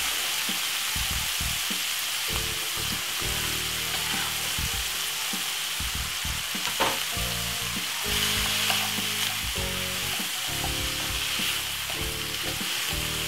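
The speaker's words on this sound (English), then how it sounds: "So basically we're gonna fry up this for about 3 to 4 minutes." White onion with seasoning fries in a pan, a dense, constant sizzle with occasional stirring scrapes, close and loud, while soft tonal music runs underneath.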